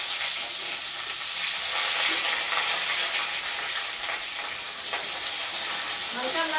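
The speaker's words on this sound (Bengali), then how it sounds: "তেল গরম হয়ে গেছে আগে আমি পটলটা ভাজবো" Pointed gourd (potol) slices frying in hot oil give a steady, dense sizzle with a hissing crackle throughout, close and fairly loud, with no talk.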